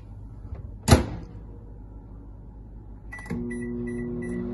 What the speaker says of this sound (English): I'm going to cook it in the microwave for 2 minutes